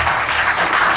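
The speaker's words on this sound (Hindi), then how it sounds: "चंदन के लिए प्यारा सा बैग आता हुआ एक जोरदार ताली होनी चाहिए।" A brief, dense burst of audience clapping for Chandan, a government school child contestant in a quiz show, filling the whole moment without any voices over it.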